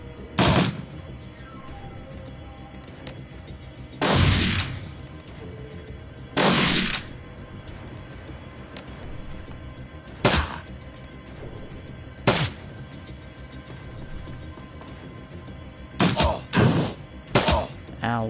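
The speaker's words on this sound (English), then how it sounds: "Let's open fire." Gunfire in the video game Shadowrun: Dragonfall: several loud, sharp bursts, some single and some in quick clusters, separated by quieter stretches of game ambience.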